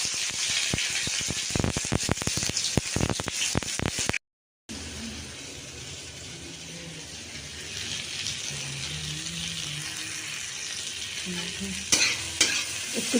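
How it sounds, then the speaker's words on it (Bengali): Cauliflower pieces fry and get stirred in a pan, loud rattling scrapes and clatters at first, then a steady hissing sizzle with occasional stirring knocks, briefly cut off partway. "দুটো কপিকে একসাথেই ভাজছি"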